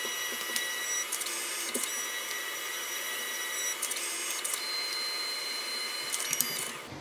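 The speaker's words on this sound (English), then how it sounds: "So you can see our printer is working" A Canon Selphy CP-1500 compact photo printer runs a test page, giving a steady high whirring mechanical hum with a few faint clicks and brief pulses in its motor noise, close and alone without speech.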